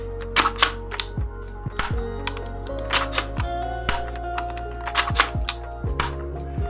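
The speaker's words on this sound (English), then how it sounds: "So here, we will pull the back bolt." The bolt of a 3D-printed airsoft XM7 rifle being worked, giving a series of sharp plastic clicks and clacks in irregular bursts, close and crisp, with no talk.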